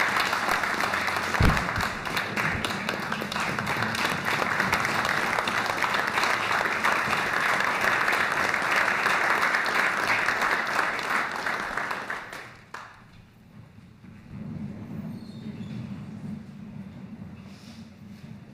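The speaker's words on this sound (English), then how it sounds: "please join me in another round of applause." An audience at a university board of supervisors meeting in Louisiana gives a sustained round of applause, steady and full for about twelve seconds, then drops off to quieter room noise.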